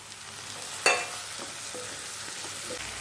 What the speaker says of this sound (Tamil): வெங்காயம் நல்லா வதங்கி வந்துடுச்சு. இப்போது 2 தக்காளியை இதில் ஆட் பண்ணிக்கலாம்.